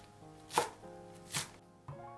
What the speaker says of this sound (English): Two spring onions and 10 grams of cilantro into sections.